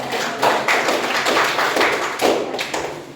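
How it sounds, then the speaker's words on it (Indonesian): Students clap for a classmate in a classroom, a loose group of hands striking in uneven bursts of a few claps each, fairly close and loud with no talk. "kita akan tepuk tangan untuk Alex."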